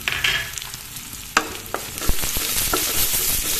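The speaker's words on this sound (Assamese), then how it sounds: "ইয়াত এচামুচ গোটা জিৰা দি দিছোঁ" Whole cumin seeds sizzle and crackle in hot oil for a spicy pineapple curry, a close, moderately loud frying hiss broken by several sharp pops and spatters.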